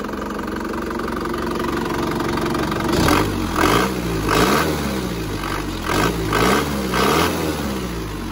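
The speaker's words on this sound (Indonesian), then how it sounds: "Suara mesin, kalau emang pada dasarnya mobil ini suaranya halus ya." An Isuzu Panther LV diesel engine idles steadily in a workshop after repair for oil consumption and smoke, then revs in several short rhythmic bursts. The sound is close and loud, with no talking.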